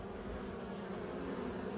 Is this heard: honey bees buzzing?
yes